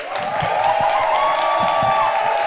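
An audience claps and cheers, producing a dense, continuous wash of applause with whoops at a live event, loud and sustained throughout.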